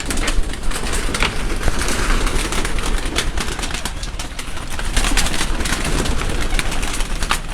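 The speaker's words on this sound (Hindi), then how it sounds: "ये सारा इनका ऊपर जो है उड़ाने वाले कबूतरों का ये सारा सिलसिला है" Pigeons kept for flying coo on a rooftop, a dense continuous wash of bird sound with steady noisy background, fairly loud and close throughout.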